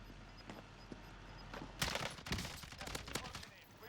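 Bursts of rapid gunfire in Call of Duty: Warzone crackle loudly in the second half, several quick volleys in succession after a quieter stretch with faint thuds.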